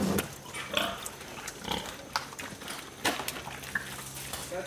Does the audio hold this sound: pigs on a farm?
yes